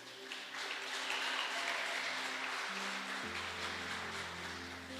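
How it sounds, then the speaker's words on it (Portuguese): Church congregation applauding together during a sermon, a steady broad wash of clapping sustained throughout over a low organ or keyboard drone that shifts pitch partway through. "Aplauda Jesus por isso."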